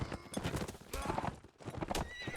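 Galloping horse hooves clatter rapidly alongside loud neighing and whinnying in a competitive video game match, with busy game effects layered throughout.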